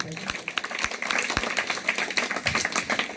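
An audience of parents at a school education gathering claps in a dense, steady patter, with a voice talking over the applause.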